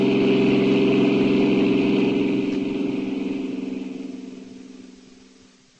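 Car engine sound effect in a radio drama, a steady humming motor with a low droning tone that gradually fades away as the car pulls off, ending in a brief click.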